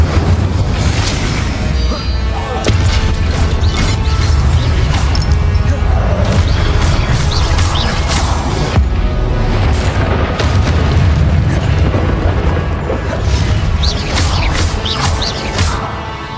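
Repeated Incendio fire spells cast during a Hogwarts Legacy battle, heavy booming bursts and crashes layered over continuous loud game music and combat noise, with a voice speaking at times.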